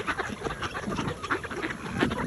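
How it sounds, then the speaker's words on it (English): Mallard ducks quacking along the Lake Michigan shoreline in Wisconsin, a steady babble of overlapping calls from a flock at moderate distance, with no voices. "Look past the mallards and you'll see one bird that doesn't quite fit the rest of the flock."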